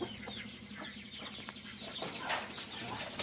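Guinea fowl clucking and calling outdoors, several birds chattering in short repeated notes over a noisy background.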